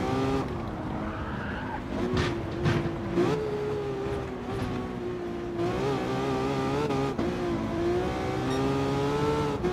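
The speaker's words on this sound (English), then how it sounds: "I'm like revving out this car." Racing engine of a 2012 Ferrari F12berlinetta on the Big Willow circuit at Willow Springs in Gran Turismo, revving hard and continuously with shifting pitch and tire-skid noise throughout.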